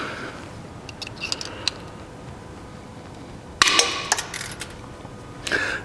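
Wire ends snipped off while building an LS engine cover from a broken wheelbarrow, with a few faint clicks and then a sharp metallic clatter of the cut piece landing, followed by another small tap, close by.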